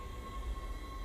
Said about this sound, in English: Tram arriving at flight deck station.